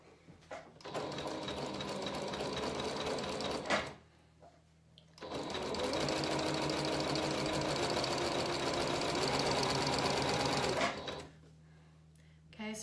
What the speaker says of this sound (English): I'm just zigzagging very close to the raw edge